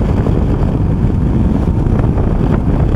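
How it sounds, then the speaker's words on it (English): Heavy wind buffets the microphone while riding a Yamaha Tenere 700 motorcycle, a constant low roar, steady and loud with no voices. "It's windy."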